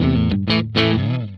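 A 1994 Gibson Nighthawk Custom electric guitar plays bright, sustained chords in three strummed bursts, loud and close, with no one talking.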